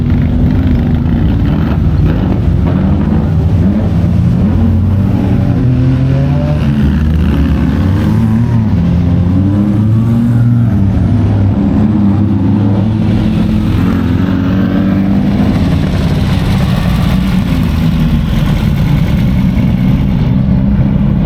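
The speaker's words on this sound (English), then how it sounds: "So they're about to take off again with a police escort, and all these cars are going to go load up" Off-road race cars at the Mint 400 set off under police escort, their loud, continuous engines rumbling and idling nearby. The droning lasts throughout with no talk.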